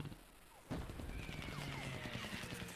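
An MG42 machine gun fires in a war video game, sharp rapid bursts that start abruptly and rattle on continuously at moderate distance.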